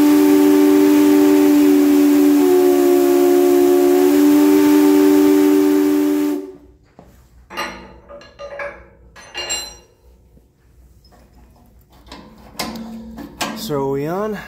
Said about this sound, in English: So we have down there a whole gigantic assortment of whistles a la Conrad Mostert.